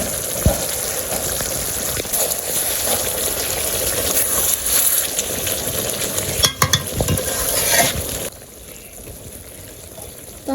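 Chicken roast with tomato sauce sizzles and fries in a pan for a village-style dish, with steady stirring and scraping throughout, loud and close, before the frying drops away near the end.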